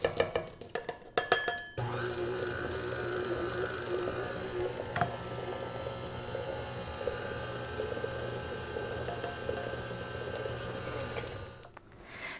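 Electric mixer whirs steadily on low speed, beating flour into honey peanut butter cookie dough with a dense, continuous drone, preceded by a few clinks and cutting off near the end.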